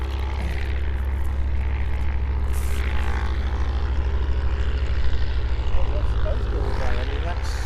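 A Spitfire's propeller engine drones steadily and loudly throughout, a continuous low rumble with nearby talk faintly over it at an airport during morning operations.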